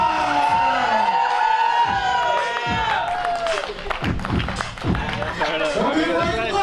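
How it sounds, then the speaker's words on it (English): Wedding guests clap and cheer as the first couple is introduced at the reception, a loud crowd noise mixed with amplified voices and music tones rather than clean clapping. "Ladies and gentlemen, give it up for the first pair, Connor and Jevon!"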